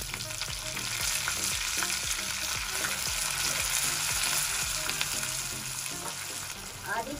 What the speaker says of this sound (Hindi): लहसुन और हरी मिर्चें सब फ्राई हो चुकी हैं।